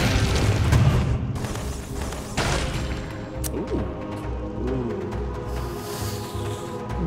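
Cluster grenade blasts in the game Dead Cells boom and crash one after another over a continuous rumbling game soundscape, with sharp impacts and scattered pops throughout.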